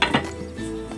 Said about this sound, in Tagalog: Takpan natin ulit.